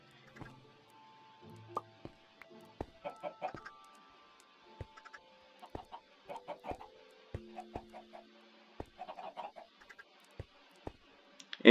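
Chickens in the video game Minecraft cluck in short, scattered bursts against near silence, with sharp clicks and brief tonal game sounds mixed between them.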